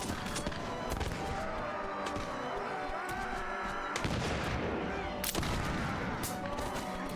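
Gunfire in a modded Mount and Blade battle, a continuous din of rifle shots and heavy booms layered over one another, with sharper near cracks standing out above the constant background firing.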